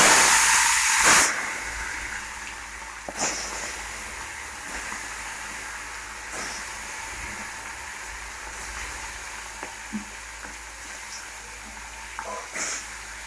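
Turmeric-coated fish, including snakehead, hits hot oil in a wok with a loud initial hiss, then settles into a steady close sizzle and bubbling, with occasional brief clatters.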